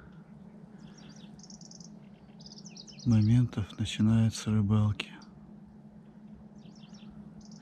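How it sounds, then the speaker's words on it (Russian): A bird sings on the bank of the Ob river, giving faint, high, quick chirps in short bursts at the start and end, while someone talks over the middle stretch. "Слышите, как птица поет?"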